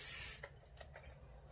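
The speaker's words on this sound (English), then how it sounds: "I'm going to spray some WD-40 on my mold so that it comes off easily" WD-40 aerosol sprayed onto a mold during an appliqué repair: one loud, close hissing burst lasting under half a second, then a quieter stretch with a few faint clicks.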